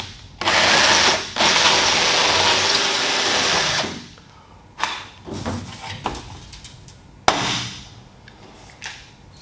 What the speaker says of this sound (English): drill the next holes, and go ahead and rivet everything together